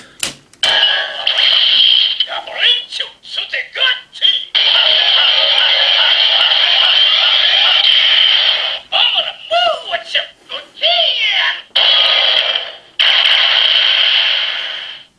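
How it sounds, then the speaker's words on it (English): A DX Kyoryujin toy plays its electronic bashing sound effect, Gochin, in bright, tinny bursts, stopping and restarting with short clicks between them. "the sound effect is Gochin, which is the sound effect for bashing"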